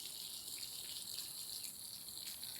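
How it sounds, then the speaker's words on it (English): Water runs steadily from an outdoor tap once turned on, a continuous faint hiss and gush with no breaks. "I'm going to turn the water on"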